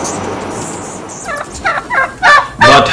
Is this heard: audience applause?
no